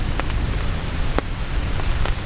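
Rain falls steadily on a tent beneath a heavy tree canopy during a windy storm, a continuous close hiss broken by a few sharper drops striking the fabric.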